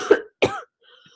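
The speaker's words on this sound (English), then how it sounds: "I had to cough." A lecturer gives two short, close coughs in quick succession, then a brief quiet pause.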